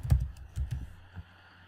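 A short burst of keystrokes on a computer keyboard, several quick close taps as a command is entered, with no talking.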